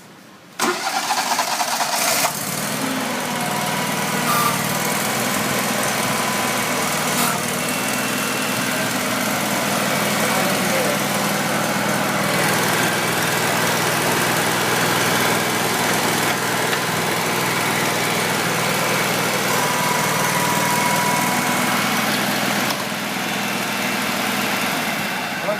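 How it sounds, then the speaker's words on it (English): The engine of a 3940 stump grinder starts up and then runs at a steady, loud drone for the whole stretch, with occasional speech beneath it. "you'll have to start the engine to get to it"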